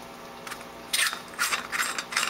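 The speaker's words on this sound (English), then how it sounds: "unscrew that, see?" A piece is unscrewed from inside a CFL lamp reflector, giving a few short, close plastic clicks and scraping ratchet-like turns in quick irregular bursts.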